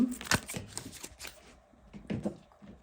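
Close, crisp slaps and riffles of playing cards being dropped and gathered, in a few quick clusters with pauses between.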